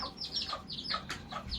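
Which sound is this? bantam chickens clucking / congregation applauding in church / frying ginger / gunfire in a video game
bantam chickens clucking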